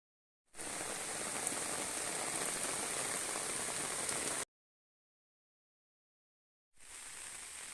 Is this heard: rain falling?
yes